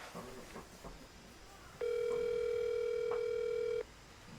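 A phone call tone sounds as a single steady two-second beep on an outgoing call that goes to voicemail, fairly faint over low room noise.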